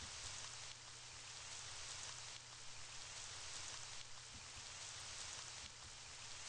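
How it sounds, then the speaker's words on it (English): Rain falls in the video game Autumn's Journey as a soft, continuous hiss of drops, quiet and even with no other sounds over it. "It's raining outside."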